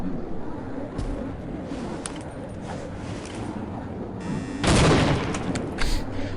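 A grenade detonates in the Half-Life mod Delta Particles: one loud, close blast bursts out near the end, with a brief sharp crack just after, over a steady, rumbling bed of game noise and scattered clatter.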